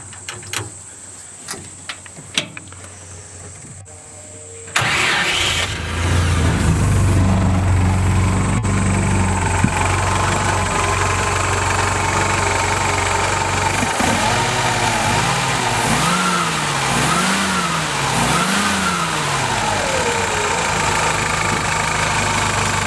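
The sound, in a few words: 1966 Willys Jeep CJ5 engine starting and running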